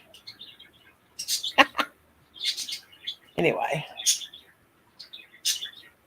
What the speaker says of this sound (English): My birds are going wild tonight.